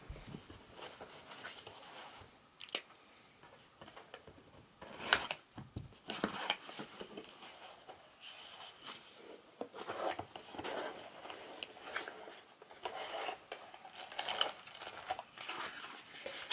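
Packaging around a Strymon Ojai guitar pedal power supply is unwrapped: quiet, irregular crinkling, rustling and tearing bursts come close by, with some handling noises between them.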